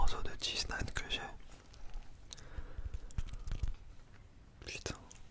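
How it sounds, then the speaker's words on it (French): Cheese naan eaten close to the microphone, with soft crunchy bites and wet chewing under quiet whispered French talk. "C'est le dernier morceau de cheese naan que j'ai."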